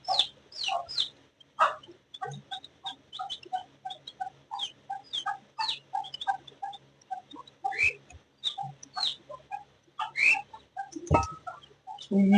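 Chickens and small chicks cluck and peep in a busy flurry of short calls, some close and loud, others softer, with a brief thump near the end; no one speaks.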